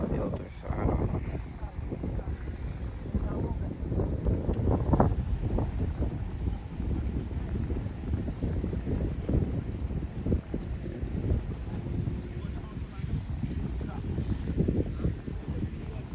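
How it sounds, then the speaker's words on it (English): Morning wind blusters steadily across an outdoor site where gate foundations are being laid, a continuous rumbling buffet on the microphone that stays fairly loud throughout. "it is a little windy this morning"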